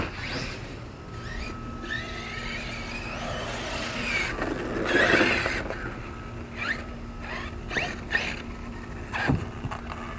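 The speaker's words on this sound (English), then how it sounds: "Son wants to drive the Super Baja Ray." A Super Baja Rey RC truck runs over a portable ramp, its small motor whining and rattling in uneven bursts, with sharper clatters as it bumps across. Nobody speaks.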